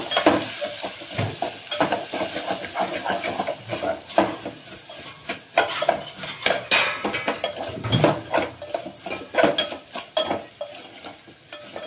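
A spoon stirs turmeric and rock salt into eggplant curry in a pan, with close metallic scrapes and clinks over a soft sizzle, irregular and continuous without speech.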